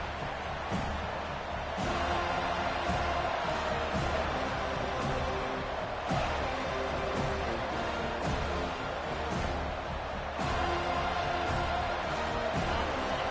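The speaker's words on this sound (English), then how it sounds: "This crowd, full throat, splitting the eardrums and letting them know it's going to be a long day." Stadium crowd in a college football video game roars steadily throughout, a dense full-throated cheer with occasional thumps and swells, loud and continuous.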